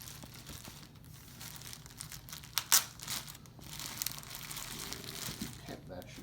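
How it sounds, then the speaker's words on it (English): Plastic tape being peeled and unwrapped from a trombone hand slide, with soft crinkling and a few sharper tearing crackles midway, close and fairly quiet. "we're going to carefully unwrap all of this. Of course, we have the plastic tape all over the place here."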